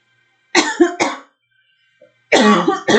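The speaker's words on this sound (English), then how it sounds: "I need to clear my throat" A person clears their throat with two rough, forceful bursts, a short pause and then two more harsh, cough-like rasps, close and loud in an otherwise quiet room.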